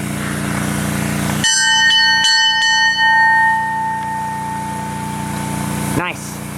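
An old railroad bell at a transportation museum is struck a few times, each clang ringing out close and loud before a long fading hum, with steady background engine noise.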